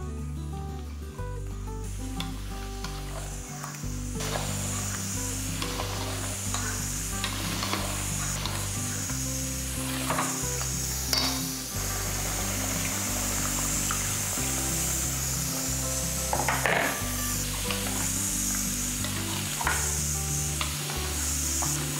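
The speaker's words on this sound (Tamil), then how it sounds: "அதனால் நல்லா 2 நிமிஷத்துக்கு எல்லாம் நல்லா வதக்கிடுங்க" An onion-spice masala for chicken gravy fries in a pan with a continuous sizzle and occasional stirring scrapes, while a loud steady mechanical hum with shifting low tones runs underneath the whole time.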